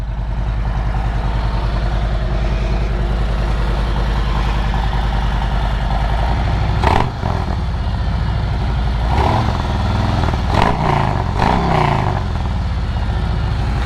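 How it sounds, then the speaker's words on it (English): Harley-Davidson Road King Special with a Vance & Hines exhaust idles loudly up close, a deep, steady, throbbing rumble with a few brief throttle blips partway through, and no voices over it. "Oh man, listen to that exhaust."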